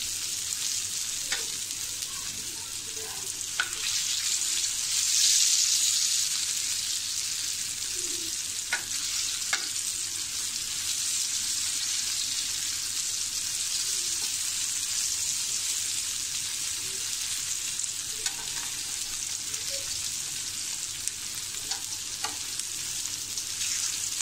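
Rupchand fish frying in a pan, Malvani style, a steady loud sizzle that runs the whole time with a few soft clinks and scrapes as the pieces are turned.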